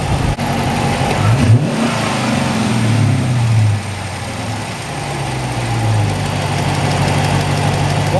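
Car engine with a K&N aftermarket air filter idling close by, giving a couple of short blips and a rising rev before settling back into a steady idle.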